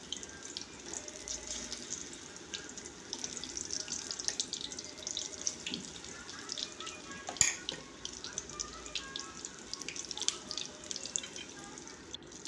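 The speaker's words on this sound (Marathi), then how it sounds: "असं भजी घालायचं भजी छानपैकी गरम तेलात तेल गरम झालेलं आहे" Onion bhaji fritters fry in hot oil with a faint, steady hiss and crackle that carries on evenly, quiet and without talking.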